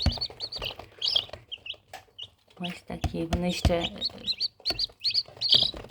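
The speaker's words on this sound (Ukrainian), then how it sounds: "Коробочку поклала курчат, які вивелися зранку." Faverolles chicks hatched that morning peep in a box, a run of high, close chirps in quick bursts, while someone talks over them.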